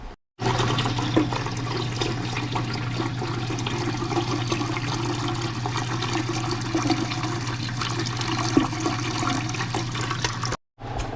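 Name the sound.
water filling the bottom of a pressure canner pot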